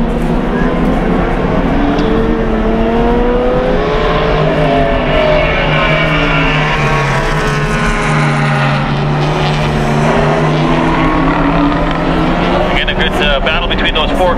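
Closed-wheel race cars in a B-Spec race form up on track, a continuous loud drone of several engines with rising and falling pitch sweeps, heard under a commentator's voice.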